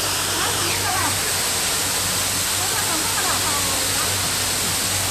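A waterfall in Nan Lian Garden rushes loudly and continuously, a dense steady roar with faint voices talking underneath.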